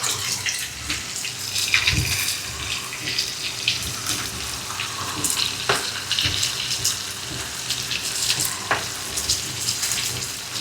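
Fish roasting in a pan, a fine continuous sizzle and crackle of frying with occasional sharper pops and spatters, close and steady without talk.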